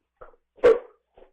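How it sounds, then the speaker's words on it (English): A single dog bark rings out clearly indoors, framed by faint whimpering yips just before and after, during a live radio broadcast. "Got a dog barking."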